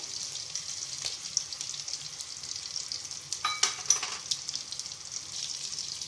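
Asafoetida and cumin sizzle in oil, a soft, steady frying hiss with a few sharper clinks and crackles scattered through it, fairly quiet and without any talking.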